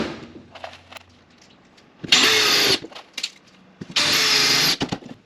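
Power drill driving flat tech screws into sheeting stock board on a farm scanning crate in a workshop, two loud sustained bursts of whirring separated by quieter clatter and handling noise.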